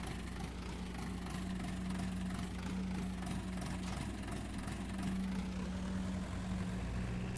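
A tractor engine idles in Farming Simulator 19, a steady low hum with a faint knocking pulse that runs unchanged and fairly quiet throughout, with no talking.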